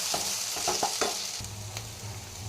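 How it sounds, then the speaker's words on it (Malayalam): Kashmiri chilli powder and coriander powder are sautéed in a pan for an egg roast, giving a steady close sizzle with a series of quick scraping stir strokes, and no talking. "പൊടികളുടെയൊക്കെ പച്ചമണം മാറുന്നവരെ വഴറ്റി കൊടുക്കാം"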